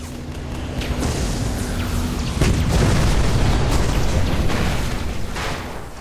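Big booming explosions from a Warthog's rocket turret in Halo: Combat Evolved pre-release footage, heavy blasts rolling one into another with loud low-end rumble and crackling debris for several seconds.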